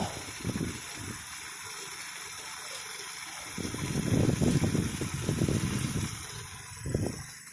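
A pump runs at roughly 50 to 60 gallons a minute, sending a steady, fairly loud gush of water into a pond in the summer dry season, swelling louder in the second half with no voices.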